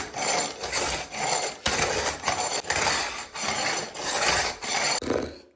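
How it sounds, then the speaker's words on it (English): A raised spot on a concrete floor being rubbed down by hand, steady harsh scraping strokes repeating in a regular back-and-forth rhythm, loud and close with no talking. "So I'm gonna try to rub this spot out just manually so I'm not getting concrete dust everywhere."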